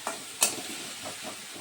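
Ground spices frying with onion in a pan for a Bengali carp fish curry, soft sizzle under a couple of sharp spoon scrapes and stirring clinks, quiet and close, no talking.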